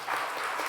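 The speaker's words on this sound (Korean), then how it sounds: "박수." A church congregation at a Sunday service breaks into a brief, even burst of clapping for the middle and high school students, dense and moderately loud.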